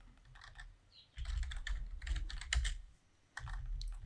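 Bursts of typing on a computer keyboard while coding a Matplotlib chart, with rapid clustered keystrokes, a short pause near the middle and a resumed burst at the end, close and fairly loud with no talk.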